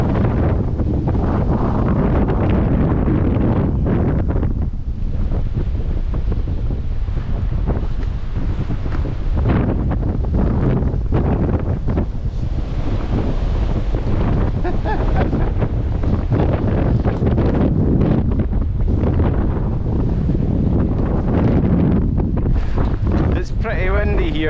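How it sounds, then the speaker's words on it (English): Strong, steady wind of about 40 miles an hour on the bank of the River Spey in Scotland in February, roaring and buffeting the microphone without a break, with water sounds beneath. "Pretty windy here. I think it's about 40-mile-an-hour winds."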